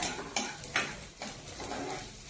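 Spices sizzle and crackle in hot oil, with a few sharp pops and a spoon stirring against the pan, close and fairly quiet.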